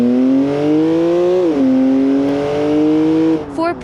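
A BMW E46 accelerates hard in the driving simulator BeamNG.drive. A loud, tonal engine note climbs in pitch, drops briefly at an upshift, then climbs again before another shift near the end.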